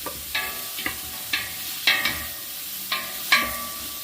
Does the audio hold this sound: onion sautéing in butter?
yes